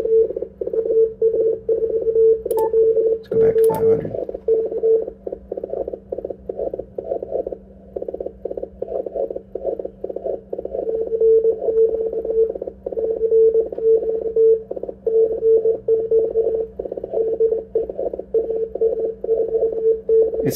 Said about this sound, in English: I can copy the weak signal 500 hertz away with the 300 hertz filter